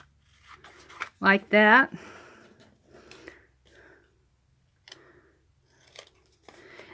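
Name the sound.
scissors snipping paper for an art journal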